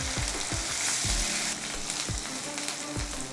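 Onions, turmeric, ginger-garlic paste and sliced green chillies fry in a pan for cucumber curry, with a steady close sizzle and repeated scraping strokes of a spoon stirring the mix.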